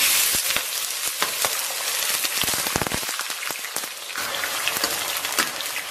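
Rock sugar caramelizing in a little oil in a wok, a dense steady crackling sizzle with scattered sharp pops throughout, close and fairly loud with no voices.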